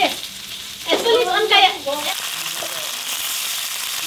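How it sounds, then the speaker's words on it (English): Sliced lung sizzles steadily in a hot pan, a constant hiss and crackle, with a person talking briefly over it near the start. "she just sliced it up and now she's frying it"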